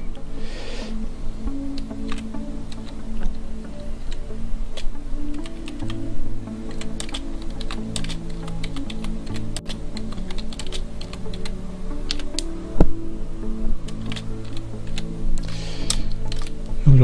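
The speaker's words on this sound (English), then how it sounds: "we click in the area and type in some little caption there" Keyboard typing on a computer while entering a text caption in image-editing software, a steady run of small clicks over a low background hum, with no talking.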